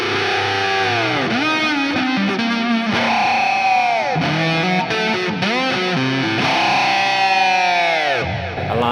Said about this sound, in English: One of his greatest abilities is to play entire melodies using harmonics and, you know, overtones on the guitar.